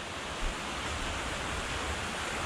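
Fast, muddy river water rushes steadily past close by, a dense, unbroken roar of flow with no voices over it.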